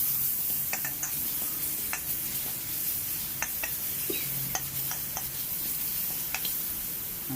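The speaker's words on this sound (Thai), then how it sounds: "แล้วก็ทำการใส่พริกกระเทียม ที่เราโขลกไว้ครับ ผัดให้หอมนะครับ" Pounded chili and garlic stir-frying in a wok for a crispy catfish basil dish, a constant hissing sizzle with intermittent light clicks and scrapes from the spatula, close and without speech.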